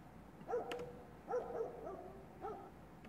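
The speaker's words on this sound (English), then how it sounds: "And then you have your dogs barking." Dogs barking in short bursts, three separate clusters of yips and barks spaced about a second apart, sounding distant with a reverb tail over a faint wind-like background.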